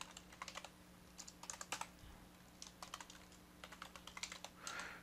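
Soft, quick keystrokes on a computer keyboard entering a password, short irregular clusters of faint clicks in a quiet room.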